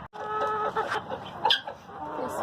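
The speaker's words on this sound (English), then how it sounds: "Just feeding these chickens" Chickens cluck close by at feeding time on a farm, a busy run of short clucks and squawks with no talking.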